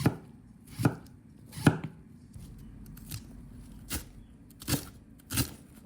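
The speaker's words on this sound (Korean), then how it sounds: "깨끗이 세척한 미나리는 총총총 얇게 썰어줍니다." A knife thinly slices washed water dropwort (minari) on a cutting board, with about seven crisp, separate chops at a loose, unhurried rhythm over a quiet background.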